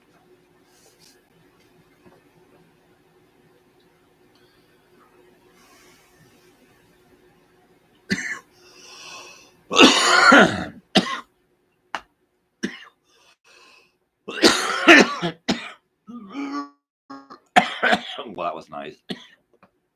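A man coughs and clears his throat in several harsh bursts after a quiet opening, with brief talk mixed in between the coughs.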